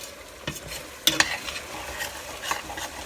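Chili verde with potatoes fries in a pan as it turns crispy, a continuous crackling sizzle broken by several stirring scrapes and a sharp metallic clink, heard close and alone.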